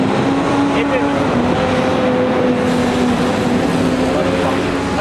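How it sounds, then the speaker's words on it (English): A bus rumbles past beside a parked Ford Fiesta Zetec S Mk7 near a bus depot, a loud steady engine drone and broad road noise filling the whole stretch while someone speaks briefly over it. "The bus has just gone past."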